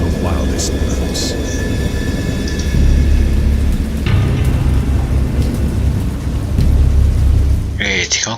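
A thunderstorm in a horror video game: steady heavy rain with low rumbling thunder swelling underneath, loud and close, with a voice speaking over it.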